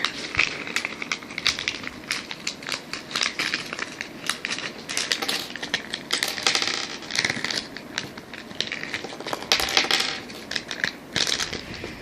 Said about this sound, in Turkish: Poşeti döküyorum.